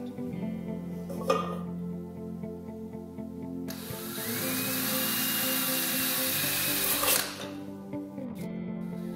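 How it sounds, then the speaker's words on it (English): A power drill bores holes around a circle in a metal can, a whirring motor rising in a long sustained bite through the metal between shorter runs, close and fairly loud. "I'm going to drill around this circle to prep for cutting those out."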